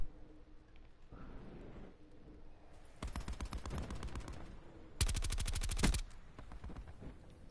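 Gunfire crackles through a shooter video game, with scattered quieter shots followed by two dense bursts of rapid automatic fire, the second one louder and sharper.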